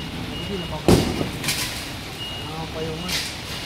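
A truck reverses with a steady warning beeper, sounding under excited voices and street noise, with a sharp thump early on.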